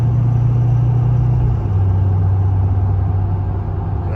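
A steady Ford 6.7 Powerstroke diesel pickup engine with a 5-inch exhaust drones at about half throttle, a low, even hum heard from inside the cab, the pitch dipping slightly partway through.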